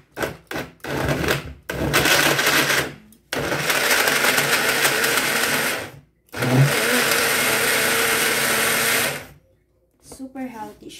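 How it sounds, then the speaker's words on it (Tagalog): A kitchen blender whirs through a healthy food mix with water, running in several loud bursts of a few seconds each separated by brief stops, and a voice follows at the end. "So, i-blender natin siya."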